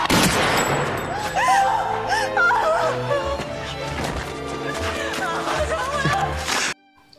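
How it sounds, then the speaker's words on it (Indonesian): Rapid bursts of gunfire crackle over a tense music score and shouting, continuing steadily before cutting off abruptly. "Mereka pun langsung menembak Yunjo."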